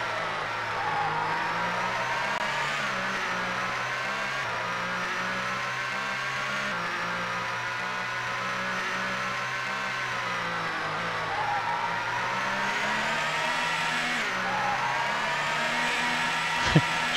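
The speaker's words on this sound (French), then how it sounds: "Je fais drifter la voiture" Race car engine droning steadily in GT64 Championship Edition on the N64 while the car drifts, a buzzy synthesized tone rising and falling with revs, alone with a brief click near the end.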